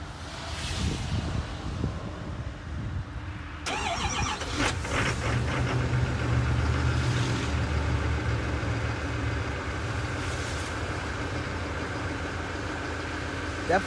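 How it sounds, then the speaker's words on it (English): A 2022 Chevy Silverado 3500HD High Country with a Duramax diesel cold starts outdoors in wind. A sharp crank-and-catch is followed by a steady, rumbling diesel idle that stays fairly close and even. "We'll do a cold start for you."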